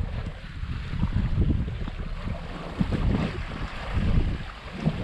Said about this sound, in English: just sailing on a broad reach, not towards Grenada, but out a little bit